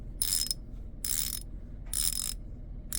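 A Hyper Tough light-duty socket ratchet clicks in four quick bursts at a steady rhythm, crisp and close against a quiet background.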